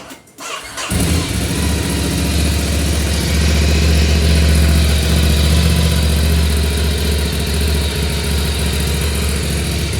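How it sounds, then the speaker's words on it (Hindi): A motorcycle engine, fitted with a modified exhaust, fires up and settles into a steady, deep idle, its exhaust rumbling loud and close with a low, even throb. "सो अभी अपन लोग इसका एग्जॉस्ट एक बार सुन लेते हैं"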